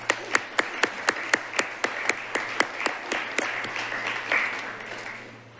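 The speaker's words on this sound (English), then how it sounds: "So could you please all give yourselves a round of applause?" Audience applause at a police department appreciation event: crisp, rhythmic claps at first, then swelling into dense, steady clapping that fades away toward the end.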